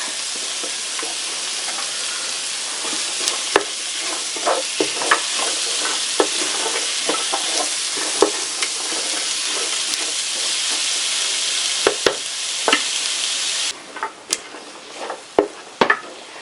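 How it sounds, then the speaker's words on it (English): Vegetables sauté in olive oil in a pan with a steady, loud sizzle and hiss, broken by frequent sharp clicks and pops of stirring and spattering; the sizzle drops off near the end, leaving a few isolated knocks. "Pop those in there and get them sauteing off a bit."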